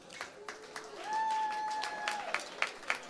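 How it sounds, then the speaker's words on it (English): Gala audience applauding Congressman Andy Levin, quiet scattered clapping with a few sharper claps, partly under a held tone and background voices. "Let's give him a round of applause"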